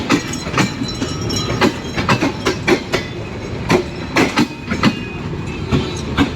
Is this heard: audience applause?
no